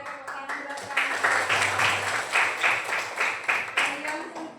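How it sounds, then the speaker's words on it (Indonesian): Children in a classroom clap their hands together in a steady rhythmic beat, loud and close, with a few voices mixed in among the claps. "tepuk tangan buat kalian"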